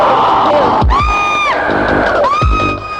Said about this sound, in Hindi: ये कैसी चीख?